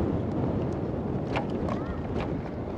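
Strong wind buffets a high lookout in Washington DC, a constant loud rushing roar across the microphone with faint distant sounds and a brief voice beneath it.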